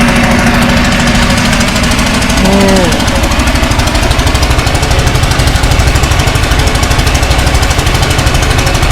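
A coastal fishing boat's engine runs at sea in Thailand, a loud, steady, rough mechanical drone with a knocking pulse that fills the scene, while a voice briefly speaks over it.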